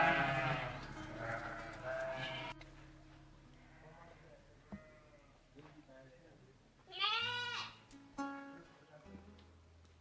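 Sahelian sheep on a farm bleat in a few short, wavering calls, with someone talking over the first part and then quieter pauses between the bleats.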